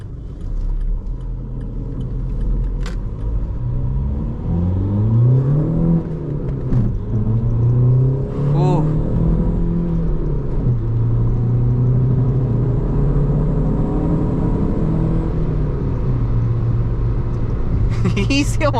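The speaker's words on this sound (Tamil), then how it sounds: "ஸோ நம்ம வந்து நார்மல் ஒரு ரோலிங் ஸ்டார்ட்டே வந்து கொடுத்துடலாம்." A Stage 3 tuned Volkswagen Vento pulls hard from a rolling start on a highway, its engine note climbing steadily and loudly with a sustained rumble, while a driver talks over it throughout.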